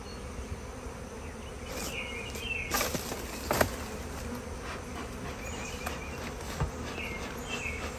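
Honeybees buzz steadily around a hive while a queen is installed, a dense close drone of many wings with individual bees passing near and a few soft knocks.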